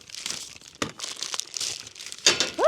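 Plastic bags holding dormant fruit-tree sprays crinkle and rustle as they are handled, a close series of irregular crackling bursts with a few sharper crumples and a brief squeak near the end.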